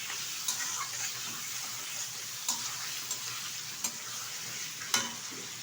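Washed mutton fries on high heat with a loud, steady sizzle, broken by occasional sharp scrapes and knocks as a spoon turns the meat in the pan.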